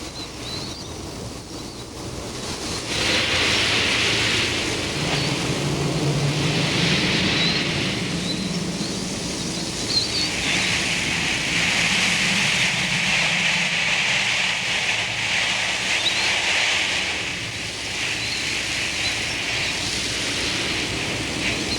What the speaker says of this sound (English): In the afternoons, a strong wind blows every day from the west.